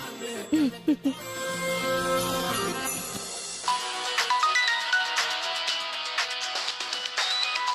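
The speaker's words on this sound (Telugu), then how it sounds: "రాజేష్ ఫోన్ చేస్తున్నాడు." A phone ringtone plays a bright electronic melody of quick, repeating tones, loud and close, continuing for several seconds.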